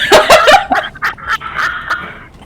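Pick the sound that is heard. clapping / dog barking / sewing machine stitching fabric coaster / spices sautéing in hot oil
dog barking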